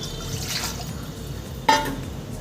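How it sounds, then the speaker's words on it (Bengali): Water poured into a cooking pot for a light mango chutney: a soft, brief watery rush followed by a sharp clink as the flow stops. Nearby and fairly quiet, with no speech. "জল দিয়ে দেবো"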